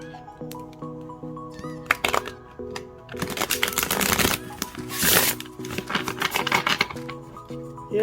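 A deck of Auset Gypsy Tarot cards being shuffled by hand, with bursts of riffling and crisp slaps of card stock, loud and close, interrupted by short pauses and small taps over about eight seconds.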